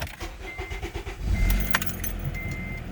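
A manual-transmission Acura TSX from the 2009-2014 generation starts up: a short starter crank builds into a loud engine catch, then settles into a steady idle. Keys jangle just beforehand, and the whole thing is close by.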